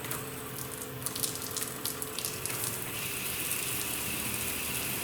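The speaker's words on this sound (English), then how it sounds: "You can vary the amount of water you want with the ball valve on here." Pump-fed water flows steadily through a ball valve at an outdoor camp shower, a continuous loud hiss and splash with faint clicks, close by and without talk.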